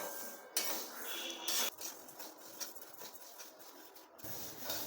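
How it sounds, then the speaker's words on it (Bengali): Golden moong dal dry-roasting in a hot kadai over a low gas flame, giving a steady scraping and stirring rattle of dry lentils against metal, with a few sharper clinks from the spoon and no talk. "এই সোনা মুগ ডালটাকে আমি কড়াই গরম করে কিছুক্ষণ ধরে ভেজে নেব।"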